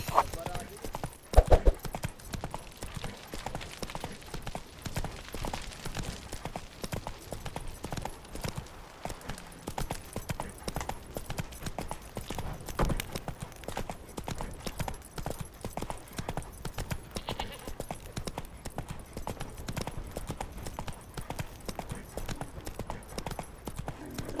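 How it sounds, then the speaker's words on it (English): A horse gallops in The Witcher 3: Wild Hunt, with a steady rhythmic clip-clop of hooves throughout and a brief whinny near the start, while someone talks over it. "Whoa there, Roach."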